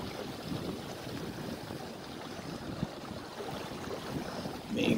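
Wind gusting around a small sailboat on open water, a broad rushing roar with buffeting microphone rumble and faint water wash, rising in a stronger gust at the end; no one speaks.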